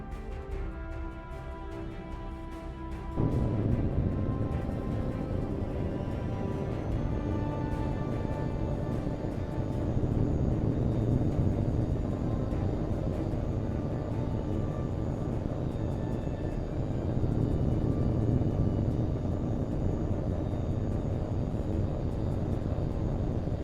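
A fighter jet's engines roar up for takeoff in the combat flight game H.A.W.X. 2, a steady, loud, close jet rumble with a whining high tone that swells after a few seconds and holds to the end.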